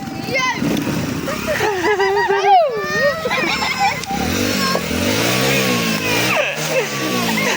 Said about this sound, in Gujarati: એ બાઈક આવ્યું એ આવ્યું